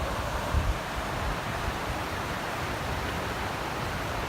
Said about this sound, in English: it doesn't hurt the water's rushing right below us